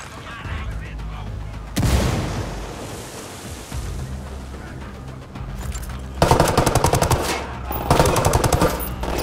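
A tactical shooter firefight in Ghost Recon Wildlands: a thrown frag grenade goes off, then rapid bursts of automatic gunfire crackle loudly, with heavy sustained volleys later and a voice briefly audible.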